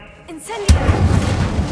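A fire spell cast in Hogwarts Legacy erupts as a single loud whooshing burst that sustains into a roaring, crackling rumble, preceded by a brief tonal magical swell.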